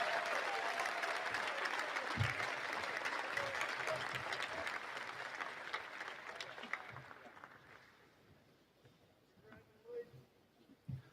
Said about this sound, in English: let's have a big round of applause for all of our state-winning sports writers